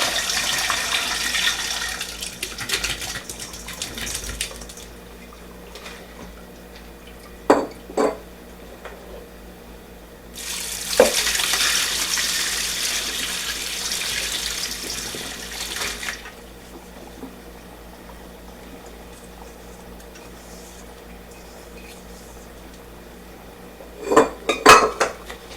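Cucumbers for canning tumble and knock in a kitchen sink under cold running tap water. A steady rush of water plays in two long stretches, with sharp clatters of dishes and jars in between and near the end.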